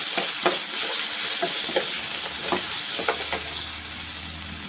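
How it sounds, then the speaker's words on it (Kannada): Grated and cut raw mango frying with green chillies in a pan for mango chitranna, a loud continuous sizzle close up, broken by occasional stirring scrapes, with no talking. "ಇನ್ನೂ ಸ್ವಲ್ಪ ಫ್ರೈ ಮಾಡ್ಕೊಳ್ಳೋಣ."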